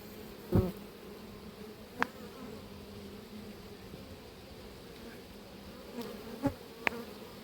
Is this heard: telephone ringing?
no